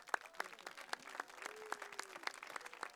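Scattered applause from a modest crowd of spectators at a blind football match in Schiltigheim, thin irregular claps with some more distant background sound.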